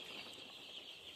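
Four-day-old Sonali chicken chicks in a brooder peep in a dense, continuous high chorus, faint and steady throughout.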